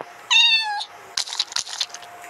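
A Minecraft cat gives one clear, loud meow, followed by a burst of clattering game noise.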